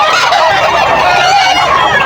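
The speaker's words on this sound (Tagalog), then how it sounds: "Manok ni Sir Rod" Loud, close chicken calls overlap continuously at a market in Bocaue, Bulacan, a busy mix of clucks and honk-like cries from many birds at once.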